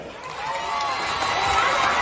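A crowd of schoolchildren at a municipal school's annual gathering cheers, shouts and claps in a steady, loud roar that builds slightly and holds throughout, with no clear single voice.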